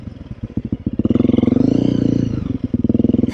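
Honda CRF 300L dual-sport motorcycle engine running close by while riding, revving up through a steady pulsing drone and easing off between short shifts.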